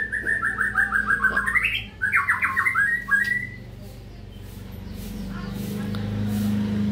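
Bright, varied whistled song of a long-tailed white-rumped shama with quick trills and chirps, fairly close, over a steady low hum; the singing fades after a few seconds.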